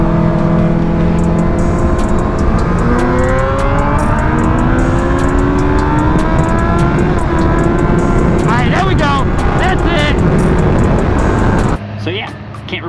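2023 Suzuki Gixxer 750 racing engine, loud and close, revving up through rising pitches and shifting repeatedly in a continuous high-speed run, with a voice speaking over it before it cuts off near the end.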